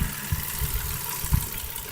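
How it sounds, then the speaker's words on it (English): A car engine idles roughly with a misfiring cylinder, a close, steady low rumble broken by uneven knocks and stumbles, with no voices. "now the engine goes crazy"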